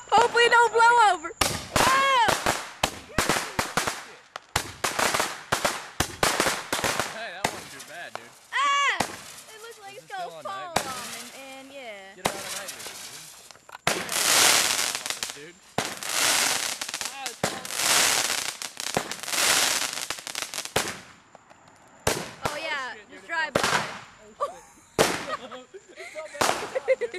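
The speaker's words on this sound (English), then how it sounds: "We gonna use it to set up some fireworks" Fourth of July fireworks and firecrackers burst in a loud, irregular string of sharp cracks and crackling volleys, with hissing blasts in the middle, while people talk and shout excitedly between the explosions.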